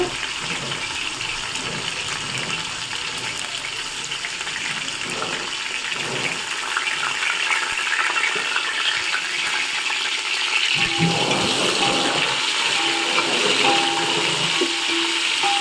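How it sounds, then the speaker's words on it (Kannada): Onions frying in a pan give a steady, loud, close sizzle that runs unbroken throughout, with occasional faint stirring. "ಈರುಳ್ಳಿ ಹಾಕೊಂಡು ಚೆನ್ನಾಗಿ ಥರ ಫ್ರೈ ಮಾಡ್ಕೋಬೇಕು"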